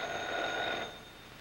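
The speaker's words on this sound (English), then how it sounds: "Will you answer the phone?" Telephone ringing in a 1939 Hollywood feature film, a bright metallic bell trill held for nearly a second before cutting off, followed by quiet room tone and no talk.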